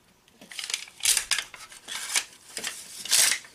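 Heat-treatment foil wrap around a hardened ring knife being cut open, giving a run of crisp snipping and crinkling bursts at a steady pace, close and fairly loud.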